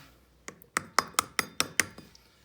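A front wheel bearing is tapped into a Polaris Predator 500 ATV in a run of about eight sharp metallic taps, close and ringing, coming quicker and firmer toward the end before stopping.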